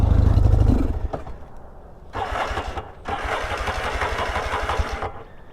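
A Yamaha XS650 motorcycle engine runs in gear, first a low idle and then two stretches of faster, steady, rough putter with a brief dip between them, heard up close.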